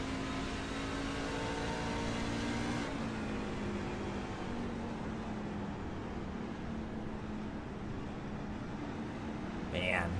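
Race truck engines drone steadily at the Milwaukee Mile oval, a sustained, moderately distant hum with slight pitch shifts, heard under continuous race commentary.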